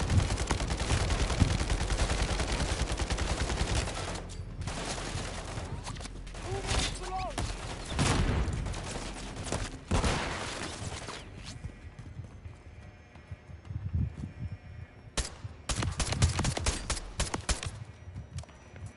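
Gunfire in the Modern Warfare 3 campaign, bursts of rapid shots and loud blasts mixed with hoofbeats and horse whinnies, dense at first, then sparser, with a final flurry of shooting.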